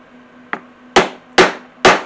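Four sharp hammer strikes set rivets into a raccoon face utility bag, one lighter tap followed by three heavy blows at an even pace, close and alone.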